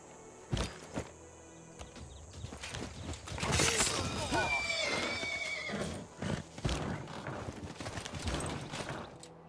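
Horse cavalry in Civilization VI combat neighs and whinnies amid clattering hooves and sharp impact noises, with the loudest burst of whinnying near the middle, and game sounds continuing throughout.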